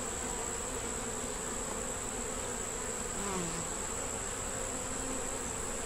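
Steady, dense buzzing of many honey bees at a hive fills the air, a constant droning hum close by with no talking.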